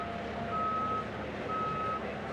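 Truck reversing in the paddock at a Misano race event, two evenly spaced electronic beeps ringing over a dense, steady background of crowd and engine noise.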